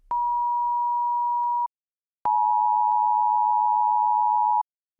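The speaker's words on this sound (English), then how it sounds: "On TV and radio, the attention tone is 2 tones played atop one another," Two component tones of the EAS attention signal, at 853 Hz and 960 Hz, play one after the other as pure steady beeps. Each lasts about two seconds, is loud, and is separated from the other by a short silence.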